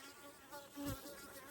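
Worker honey bees buzz around newly arrived queens, a faint close droning hum that swells briefly midway through the short moment.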